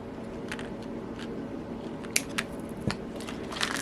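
Scissors snipping bracelet cords, a few short sharp clicks scattered over a steady low background hum, close and fairly quiet.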